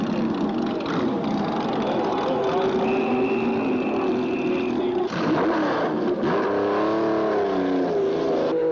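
Porsche race cars run flat out around a track, a continuous loud engine roar with rising and falling pitch as cars accelerate and pass, one car sweeping close by midway through.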